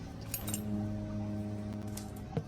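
Keys jangle in the video game Close to the Sun, a soft metallic clinking over a steady low ambient hum, with a sharper clink at the end.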